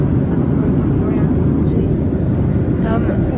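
Steady low roar inside the cabin of a Qantas Boeing 737-800 at cruising altitude of about 40,000 feet on a Sydney to Melbourne flight, a loud constant broadband drone throughout.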